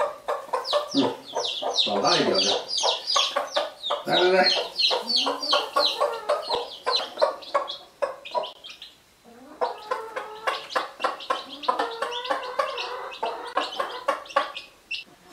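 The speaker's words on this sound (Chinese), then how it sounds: "四只小鸡仔" Hens and small chicks on a hillside farm cluck and cheep in a dense, busy chorus that runs throughout, with someone speaking briefly over the birds.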